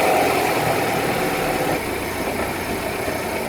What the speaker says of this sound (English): Let's see what it looks like with the wheels spinning.